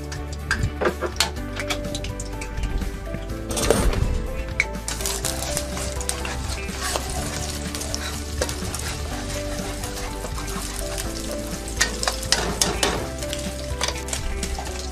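An egg hits a hot oiled pan for vegetable fried rice, setting off a loud, continuous sizzle with scattered spatters and utensil scrapes throughout, close and with no talking.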